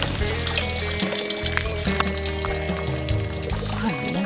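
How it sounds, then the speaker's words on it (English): A motor hums steadily while pumping stream water into a tank, with continuous pouring and splashing water layered over the engine drone at close range. "getting fresh water into the tank."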